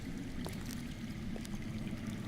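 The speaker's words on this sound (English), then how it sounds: "I hear water. From underground." Underground water in the Game of Thrones video game, a faint, continuous low rushing flow with soft trickling, steady and distant with no talk.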